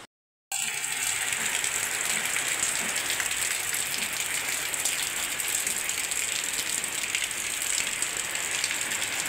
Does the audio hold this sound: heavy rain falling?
yes